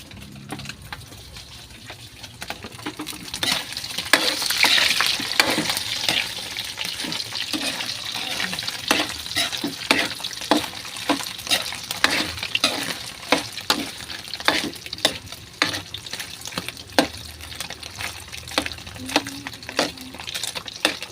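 Papaitan ingredients with chili and onion leaves are sautéed in a hot pan, giving a steady sizzle broken by repeated scraping stirs of a spatula that grow louder after the first couple of seconds and continue throughout.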